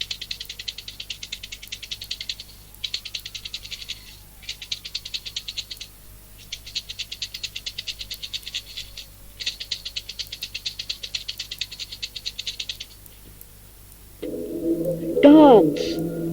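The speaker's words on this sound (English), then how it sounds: "imagine yourself dancing to the sound of the sistrum" Sistrum rattle shaken in quick metallic bursts, several rhythmic shaking passages separated by short pauses, followed near the end by a louder, different sound.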